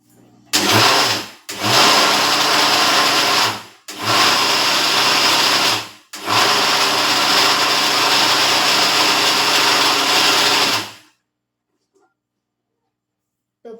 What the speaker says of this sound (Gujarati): બધું એડ કરી મિશ્રણ આપણે ફરી એકવાર ગ્રાઇન્ડ કરી લેશું જેથી બધું આપણું બરાબર મિક્સ થઈ જાય